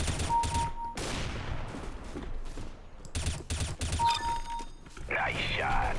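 Shotgun blasts in Counter-Strike: Global Offensive Arms Race mode, several loud booming shots in bursts across the clip, mixed with other game effects and background music, close and punchy.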